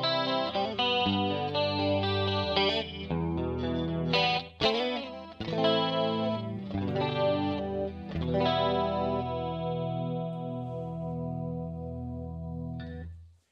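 Clean electric guitar on a Perle Destroyerman, neck pickup coil-tapped, playing chords and single notes, bright and sparkling with a slight chorus shimmer, ending on a sustained ringing chord.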